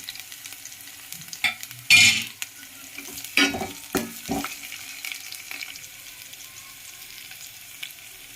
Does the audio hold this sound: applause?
no